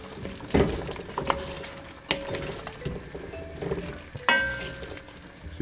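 Garlic in the pot for Jamaican brown stew beef being stirred: a spoon scrapes and knocks against the pot over a gentle sizzle, with a couple of louder clunks, no talking.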